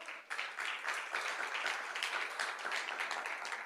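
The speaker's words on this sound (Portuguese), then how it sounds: "Aplauda ao Senhor." A church congregation applauds in steady, dense clapping that continues without a break for a few seconds, with no voices rising above it.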